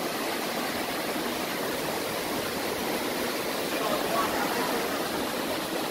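Floodwater rushes through streets in Jamaica, a constant broad roar of moving water heard steadily throughout, fairly soft and uniform with no distinct breaks.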